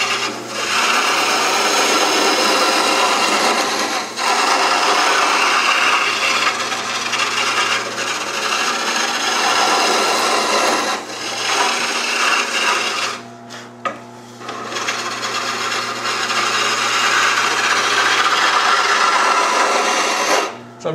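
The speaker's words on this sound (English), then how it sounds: "And then I'll take my gouge and I'll run this taper." A gouge cutting a taper on a wooden table leg spinning on a lathe: a continuous loud scraping, rasping cut over a steady machine hum, with brief pauses and changes in pressure, no talking.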